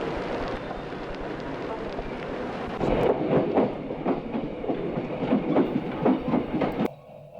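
A train moves along rails with a steady rolling rumble, then a rhythmic run of close, sharp wheel clacks at regular intervals before the sound drops away abruptly near the end.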